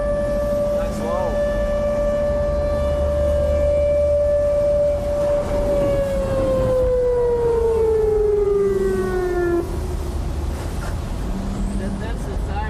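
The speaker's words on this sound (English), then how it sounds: "Sirens are sounding." A long wailing tornado warning siren holds a steady tone, then slowly falls in pitch, loud over road and engine noise during a storm chase, with people talking occasionally.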